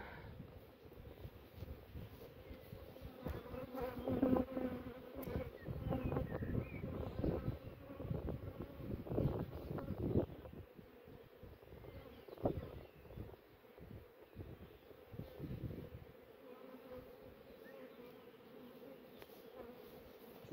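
Honeybees buzzing around a strong beehive: a steady, close swarm drone that lasts throughout, with some wind rumble on the microphone and no talking.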